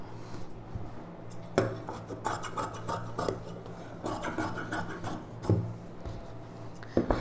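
Scissors cut blouse fabric during aari work blouse tailoring, giving a series of close, soft, irregular snips and rustles with light table knocks.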